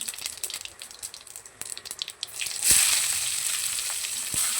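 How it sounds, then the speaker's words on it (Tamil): Mustard seeds, urad dal and cumin crackle and sizzle in hot oil in a kadai, with sharp pops scattered through a steady frying hiss that grows louder midway. "வானலியில் எண்ணெயை ஊற்றி கடு உளுந்தம் பருப்பு சீரகம்"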